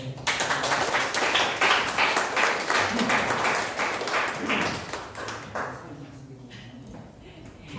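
An audience applauds a lecturer at a talk on Korean city bus policy, the clapping loud at first and then thinning out as it fades over several seconds.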